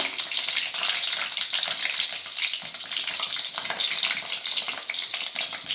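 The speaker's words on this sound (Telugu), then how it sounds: "ఆయిల్ హీట్ ఎక్కిన తర్వాత రెండు పచ్చిమిర్చి వేసుకోవాలి" Green chillies fry in hot oil for an eggplant curry, giving a continuous bright crackling sizzle with a busy bubbling texture, steady and close throughout with no talking.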